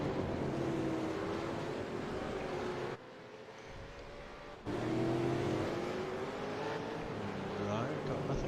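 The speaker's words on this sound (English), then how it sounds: "there's a car just limping back around through turn 9 into turn 10 at the moment" Race car engine at a SuperCars NZ V8 Summer Series round, a damaged car limping slowly around the circuit through turns 9 and 10, a steady droning engine with a sudden drop in level partway through, under commentary.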